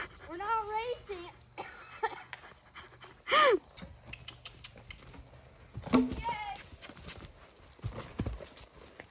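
Hoofbeats of a racehorse jumping, a few irregular clopping thuds spread through the clip, with people talking and calling out over them.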